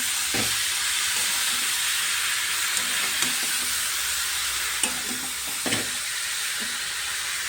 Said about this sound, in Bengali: তো ভালো করে নাড়িয়ে নিচ্ছে।